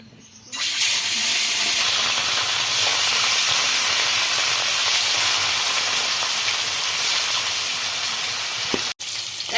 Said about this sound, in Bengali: গরম হয়ে গেছে এবার মাছগুলো ভেজে নেবো